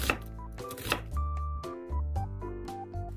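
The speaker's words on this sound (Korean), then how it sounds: "청양고추 1개는 씨를 제거하고 흐르는 물에 씻어준 뒤 잘게 다져줘요." A knife finely chops a Cheongyang chili pepper on a board, a few sharp taps early on and then background music with soft tones and no more chopping.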